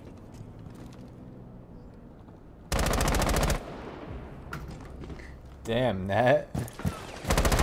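Gunfire in the console shooter Rainbow Six Siege comes as a loud automatic burst, then sharper shots and another burst, with a player talking briefly between them.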